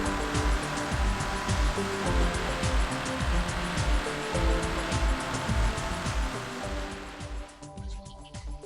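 A pressure washer blasts roof flashing clean with a loud, steady, near hiss of spray and irregular low thumps throughout, dropping away and thinning out in the last second or two.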